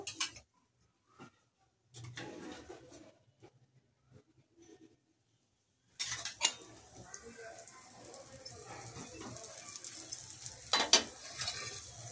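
Dosa batter is spread across a hot tawa, starting with sparse scraping taps and then breaking into a louder, continuous sizzle with occasional clinks of utensils.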